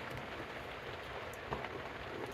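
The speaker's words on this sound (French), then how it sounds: "Vous entendez la pluie?" Rain falls outside a camper van in a steady, soft patter on the surface, an even hiss of drops heard from inside, fairly quiet, with no talking.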